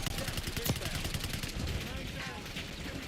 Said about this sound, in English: y'all put some shots on him